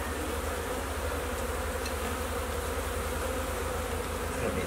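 A dense, steady buzz of many honey bees swarming close by during a hive removal from a ceiling, continuous and unbroken throughout.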